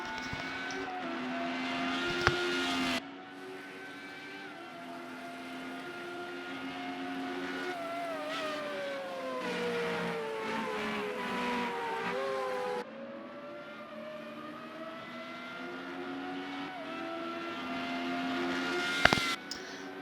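Formula Renault race cars on flying laps at the Brno circuit, engines droning and revving through gear changes, with one car swelling past up close and others whining more faintly in the distance.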